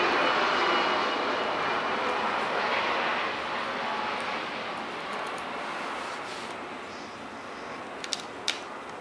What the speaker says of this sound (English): Excuse the plane outside.